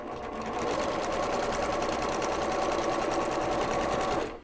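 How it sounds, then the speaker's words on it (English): A sewing machine runs a steady quarter-inch quilt seam on fabric for a sawtooth star block, its fast rhythmic needle chatter close and continuous for several seconds before it stops. "stitching a 1/4 inch seam all the way down"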